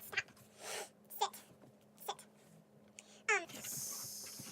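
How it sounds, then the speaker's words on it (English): Dogs scuffling at someone's feet, with short yelps, whimpers and panting in brief bursts over a quiet room, alone with no talk. "Please, dogs, you're biting my feet."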